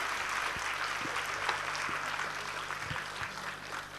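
Audience applause at a 2005 Diwali morning celebration at Om Shanti Bhawan, Mount Abu: a dense, steady roar of many hands clapping together that holds at an even level throughout, with no voices over it.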